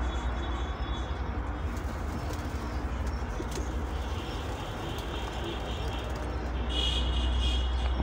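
Homing pigeon squabs coo softly on a balcony, low calls partly buried in a steady wash of outdoor noise that swells slightly near the end.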